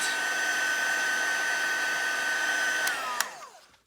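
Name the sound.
heat tool drying embossing powder on paper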